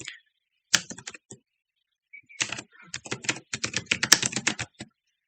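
Fingers tap out JavaScript code on a computer keyboard nearby, in short irregular bursts of crisp keystrokes separated by brief pauses, growing into a faster run of clicks toward the end.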